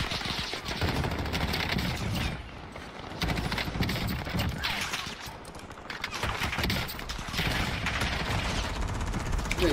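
Dense, continuous gunfire rattles in a shooter video game battle, with rapid loud volleys and heavy noise that dips only briefly between bursts.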